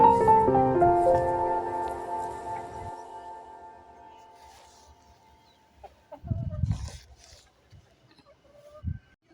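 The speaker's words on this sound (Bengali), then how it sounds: "এখন মুরগি ঘরে চলে এসছে" A hen clucks in short, uneven bursts, close by, with a few quieter clucks and rustles between them, then a brief louder squawk near the end.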